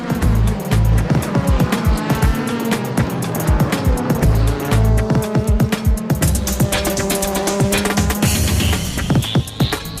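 Racing cars roar through the opening lap of a JGTC race, the Advent Supra on soft Yokohama tires leading, with loud, dense engine drone, shifting revs and passing cars, all close and continuous.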